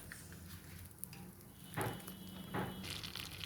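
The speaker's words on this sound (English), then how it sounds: "I'm adding about 2 tablespoons of butter." About two tablespoons of butter melt in a small kadhai over low flame, a soft faint sizzle with light stirring and a couple of brief clinks, no talk.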